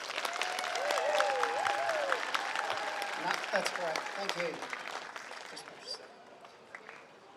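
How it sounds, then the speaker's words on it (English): A crowd at a community unity event in Gympie claps steadily while a nearby voice speaks over it. The applause thins out over about seven seconds. "So big round of applause for Craig."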